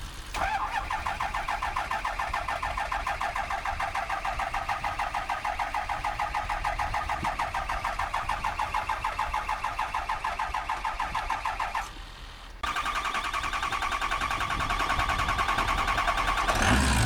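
A 2007 Ford 6.0 Powerstroke diesel engine cranks steadily with a fast rhythmic whir, pauses briefly, then fires and settles into a loud, even idle close by.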